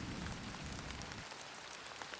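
Steady rain falling outside, a soft continuous hiss of drops on surfaces, fairly faint and even throughout with no voices.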